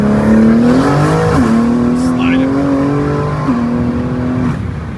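Straight-piped BMW G80 M3 with catless downpipes revving hard and sliding, its exhaust rising and falling in pitch close up, with pops and brief tire squeal.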